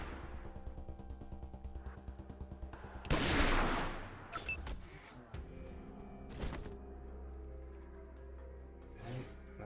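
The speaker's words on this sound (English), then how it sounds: "I'm going to start using this sniper rifle." A sniper rifle shot in Wasteland 2 lands as one loud, sharp burst with a short decaying tail, followed by a few quieter thuds and clicks over a low ambient game hum.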